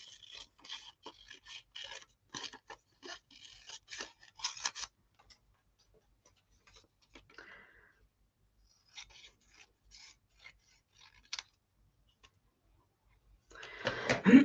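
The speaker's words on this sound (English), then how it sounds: "we'll just cut it to size a little bit more" Craft material being cut to size in a home craft room, heard as a series of short scraping, rasping snips in bursts with quiet gaps between, moderately close, then a louder rustling handling noise at the end.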